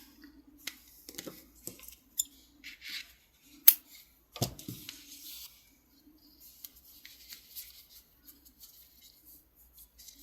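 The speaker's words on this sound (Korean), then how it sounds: "실 좀 길게 잘라주세요" Scissors snipping yarn during crochet work, a few soft, close cuts with light rustling of thread in a quiet room.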